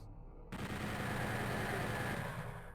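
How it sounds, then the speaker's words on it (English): Sustained rapid weapon fire from the plasma rifle in Doom 64, starting abruptly after a half-second pause and continuing loud and dense to the end, with no talk. "Just going to make good use of the plasma rifle here."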